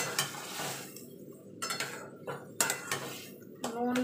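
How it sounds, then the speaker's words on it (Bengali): A spoon stirs and scrapes in a bowl, mixing mashed roasted eggplant with salt, onion and oil. The clinks and knocks come close and fairly quiet, in irregular bursts between short pauses. "এবার ভালো করে মিশিয়ে নেব।"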